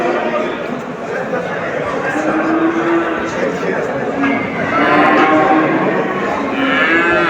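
Cattle mooing amid the constant hubbub of a busy livestock market in Çubuk, Ankara, with low lowing calls rising over crowd chatter and nearby talking throughout.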